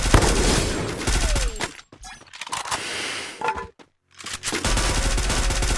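Sustained automatic MP5 fire in the shooter game Free Fire rattles loudly in long bursts, broken by two brief pauses before the shooting resumes.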